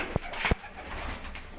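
Two short, low pigeon coos stand out over a faint background hum, each a brief muffled burst close to the listener.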